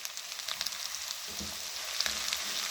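Steady sizzling from onions frying in a pan, with occasional crackles and stirring sounds over a constant hiss, close by.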